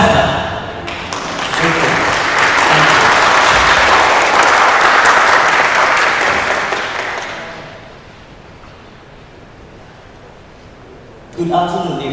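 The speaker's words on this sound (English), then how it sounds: "Please give a round of applause to Stemster." A competition audience at Vajiravudh College gives a round of applause to a student team called Stemster: loud, dense clapping builds quickly, holds steady for several seconds, then fades to a quiet room before a voice starts.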